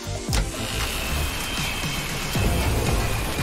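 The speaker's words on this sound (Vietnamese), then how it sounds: "trời mưa to quá à" Heavy rain pours in a continuous dense hiss with scattered louder splashes and thumps, steady and close throughout, without voices.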